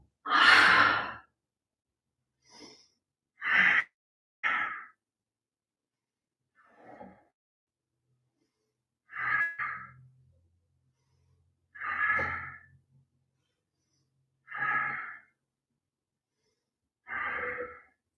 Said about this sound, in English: So exhale as you come up, and inhale as you lower.